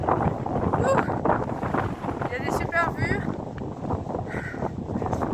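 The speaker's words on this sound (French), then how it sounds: "Il y a beaucoup de vent là." Strong wind blows across the Mourailladou summit at 948 metres in the Luberon, buffeting the microphone with loud, continuous gusty roaring while someone talks.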